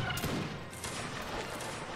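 Gunfire from the video game Mount & Blade: Warband, a dense fusillade of overlapping shots and crackling reports that runs continuously and loud for the whole stretch, with no talk over it.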